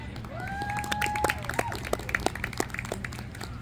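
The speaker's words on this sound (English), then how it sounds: "Can I get a round of applause for Mr. Scott Lynch?" Scattered clapping from an audience at an outdoor union rally for workers, tenants and students, light and uneven rather than a full ovation, with a voice briefly audible over it.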